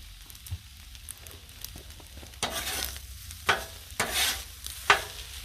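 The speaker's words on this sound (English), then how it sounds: "Let's give this a good stir." Shrimp fried rice with hoisin and oyster sauce sizzling on a Blackstone griddle while two spatulas stir and scrape it, producing a steady fry hiss broken by several loud, close scraping bursts, with no speech.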